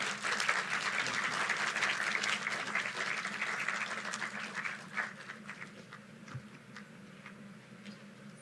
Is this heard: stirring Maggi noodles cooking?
no